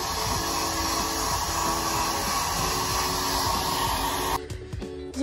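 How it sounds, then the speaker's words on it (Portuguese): A hair dryer used to press clothes in a cruise ship cabin with no iron runs as a loud, steady whirring blow close by for several seconds, then cuts out near the end. "E aí eu tô passando com um secador a causa do meu."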